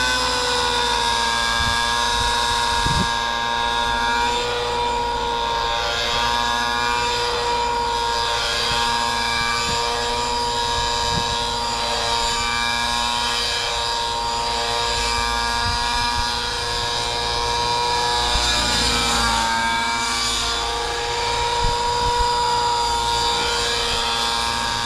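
An Align Trex 600 RC helicopter hovers and flies on a tuning flight, its motor and rotors making a sustained high whine with steady harmonic tones that shift slightly in pitch, loud and continuous throughout.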